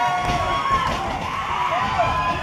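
A wrestling arena crowd at an OVW event roars and cheers steadily throughout, a dense, loud wash of many voices with scattered higher shouts rising above it.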